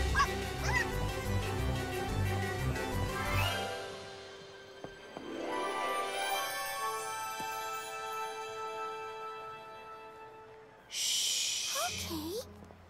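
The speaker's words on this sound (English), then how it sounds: "Wait, there he is! There's that puppy!" A cartoon puppy gives a few short barks and yips amid music and other cartoon sound effects.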